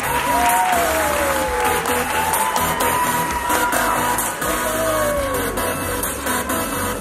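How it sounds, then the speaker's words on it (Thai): Sustained audience applause at the Miss Supranational Thailand 2019 beauty pageant, a steady dense clapping wash with a wavering music tone running through it. "ปรบมือกับสองสาวของเราอีกครั้งหนึ่งครับ"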